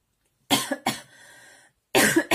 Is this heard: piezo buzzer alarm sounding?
no